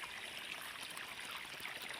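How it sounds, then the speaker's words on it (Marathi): Irrigation water trickles through a wheat field with a weakened flow, a steady and even rushing hiss that stays close and continuous without pause, and no voices. "इकडं जर हे आहे तर पाणी कमी येते पाणी कमी यायलं आहे"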